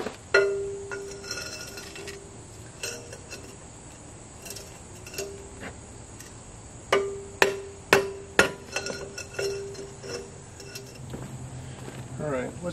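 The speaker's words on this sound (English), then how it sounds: "a specialty tool, which happens to be my jack stand handle, and gently tap it out" Metal tapping with a jack stand handle on a stuck part during a Dana 60 axle rebuild, a series of sharp clinks, sparse at first and then a quicker cluster of louder strikes near the end, over a steady insect-like background hiss.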